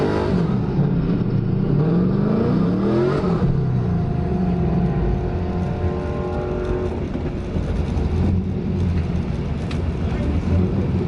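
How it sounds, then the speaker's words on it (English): Pontiac Trans Am doing a first gear burnout at an airport, a loud sustained engine roar with rising revs and tire noise, close and continuous throughout. "If I do another first gear burnout, that's going to be plenty."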